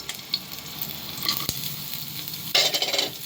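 Green chilli and half an onion sizzle in hot oil while being stirred, with a steady fry, scattered scraping clicks, and a louder burst of sizzling near the end.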